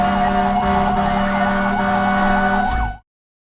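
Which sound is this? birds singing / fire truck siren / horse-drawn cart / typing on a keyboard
fire truck siren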